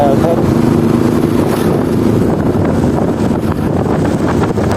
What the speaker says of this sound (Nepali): म चाहिँ टक्क लगाएर बाइकको राइडको मजा लिइरहेको छु।